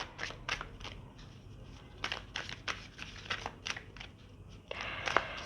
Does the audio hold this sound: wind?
no